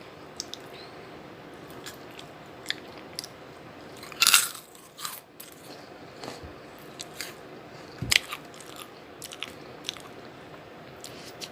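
A crunchy pink meringue cookie is bitten and chewed close to the mic, with a few sharp crisp crunches followed by soft, quiet chewing and small mouth sounds.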